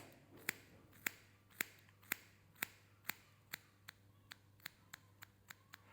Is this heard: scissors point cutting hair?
yes